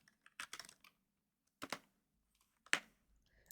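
Three short bursts of keystrokes on a computer keyboard, clattering close and fairly crisp, with quiet gaps in between.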